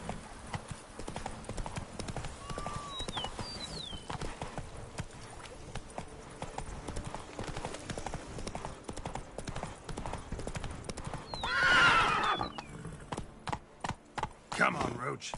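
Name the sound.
horse Roach galloping in video game The Witcher 3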